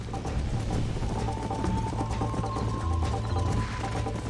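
Horse hooves clip-clopping steadily with a faint whinny in Red Dead Redemption, a continuous game soundscape with mechanical ambience and no talk.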